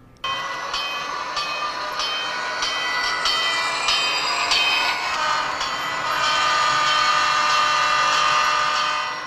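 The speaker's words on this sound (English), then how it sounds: "A place where playing with toy trains is perfectly acceptable." Toy trains running on a model railway layout set up in a basement, with steady rolling and rattling of small cars and rhythmic clicks over track joints, continuous and close, growing slightly louder toward the end.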